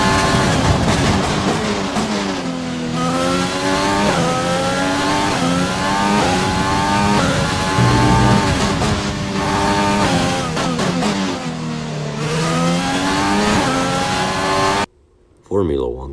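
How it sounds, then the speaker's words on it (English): Renault Formula 1 engine in the F1 2020 racing game, loud and continuous, revving up and down through gears with rising and falling pitch sweeps, briefly cutting out near the end before resuming. "let's head to the track for opening practice and listen to the beautiful Renault engine"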